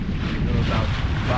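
Steady wind buffeting on a sailboat under mizzen and head sail in light air around 5 knots, a continuous low rumbling roar with some water movement, close and fairly loud throughout.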